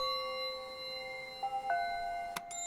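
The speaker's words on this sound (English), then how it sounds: "Gotta get the wind chimes. Always gotta get the wind chimes." Wind chimes in the video game Season: A Letter to the Future, heard as a few clear, sustained metallic tones entering one after another over a soft ambient bed, with a bright chime strike near the end.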